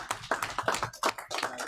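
A small group at a radio club AGM gives a short round of applause, scattered hand claps tapping unevenly for under two seconds at moderate distance.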